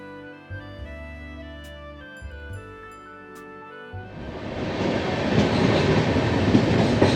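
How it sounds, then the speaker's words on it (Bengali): Train noise swells as rumbling and rattling carriages of a train pulling into New Jalpaiguri (NJP) station grow louder, rising over quiet background music in the first few seconds. "পৌনে দশটা বেজে গেছে এনজিপি স্টেশনে ঢুকছে ট্রেন"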